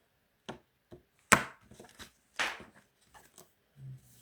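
A deck of tarot cards being cut and tapped: several crisp, dry knocks and shuffling snaps in an irregular sequence, close and clear, with quiet gaps between.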